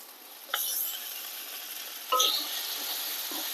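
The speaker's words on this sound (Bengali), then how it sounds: "ভালো করে কষিয়ে নেব। দিয়ে দেব আদা বাটা।" Ginger paste and spices stirred and fried in a pan for chicken chaap, giving a steady soft sizzle with two sharper scraping strokes of a spoon, close and alone.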